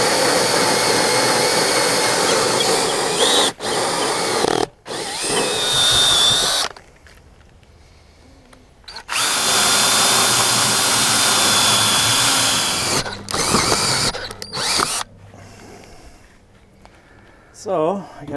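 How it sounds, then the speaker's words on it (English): A power drill runs in long loud bursts, boring holes while mounting solar combiner boxes, with pauses between runs and a person talking over parts of it. "Just drill some holes."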